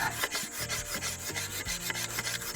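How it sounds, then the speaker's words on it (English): A paint scraper drawn along a wooden longbow, giving a close, rhythmic series of dry rasping scrapes, several quick strokes in a row with no talking. "That's a paint scraper."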